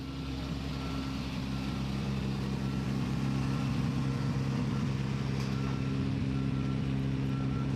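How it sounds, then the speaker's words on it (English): Three rallycross cars idling near a commentary box at a circuit in Catalunya, a low steady rumble with a constant engine drone and no talk over it. "3 cars rumbling away underneath the commentary box."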